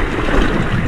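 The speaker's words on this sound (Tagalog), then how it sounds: "Lumalakas na yung ampas ng alon guys." Strong ocean waves surge around a small boat near Paguriran Island at dusk: a loud, close, continuous rush of water mixed with buffeting wind noise on the microphone, lasting under a second.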